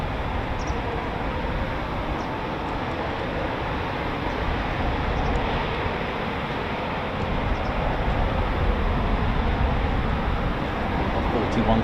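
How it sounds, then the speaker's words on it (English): A Eurofighter Typhoon FGR4 fighter jet taxis at an RAF station, giving a steady, unbroken roar of engine noise that holds at an even loudness throughout, with no voices present. "Typhoon taxiing out."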